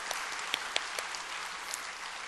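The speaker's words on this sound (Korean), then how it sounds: "자리에서 잠깐 일어나시면 저희가 박수로 환영하도록 하겠습니다" A church congregation at a Sunday service claps together to welcome a new member, a brief even burst of many hands in a large room, with no talking over it.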